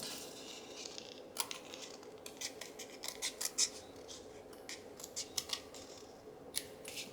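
Scissors snip through paper while trimming pages for a handmade journal with double signatures and envelopes, a quick run of close, crisp cuts in irregular bursts over a quiet room.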